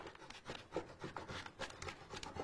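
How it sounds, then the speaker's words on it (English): Plastic scraper tool rubbed back and forth over Cricut transfer tape backing on a personalized notebook, giving a run of soft, close scratchy strokes in a steady rhythm, with no talking. "Grab my favorite scraper tool."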